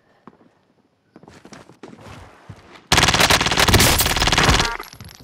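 Sparse footsteps and small clicks in a shooter video game give way to a loud, sustained burst of rapid automatic gunfire.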